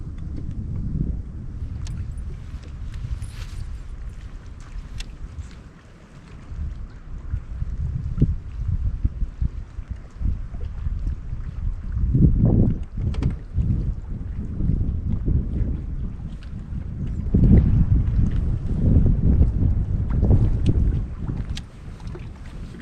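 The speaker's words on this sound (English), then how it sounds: "I'm sure you can hear the wind" Strong wind gusting over a flooded lake roars continuously across a microphone from a boat, swelling into louder buffeting rumbles in waves, with no other clear sound.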